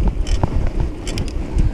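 Wind buffeting the microphone of a cyclist riding in Eastbourne, a steady low rumble with faint clicks and rattles, and no voices.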